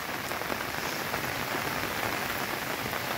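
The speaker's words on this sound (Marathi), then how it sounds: "आज सुद्धा पावसाची संततधार चालू आहे बघा" Heavy, unbroken monsoon downpour in rural Konkan pours onto surfaces and foliage, a dense, loud, steady patter with scattered sharper drop hits throughout and no voices.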